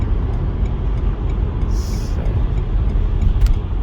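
Inside a car slowing down on the German Autobahn to take an exit, a steady low engine and road rumble fills the cabin, loud and continuous, with a brief hiss partway through.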